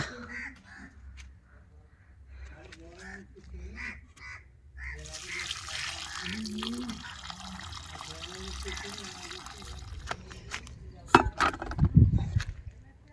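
Water splashes and trickles steadily for several seconds onto a curry leaf plant while a person talks nearby and crows caw in the background.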